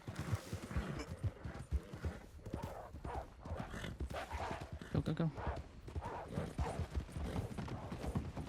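A horse gallops in a Wild West ranch role-play video game, its rapid hoofbeats clip-clopping steadily throughout while someone talks and shouts over them.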